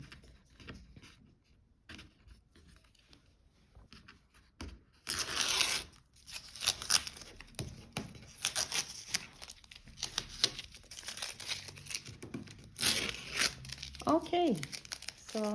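Masking tape peeled off a finished watercolor Northern Lights painting on paper, heard as a few sharp tearing, crinkling bursts between quieter stretches of handling, close and fairly soft.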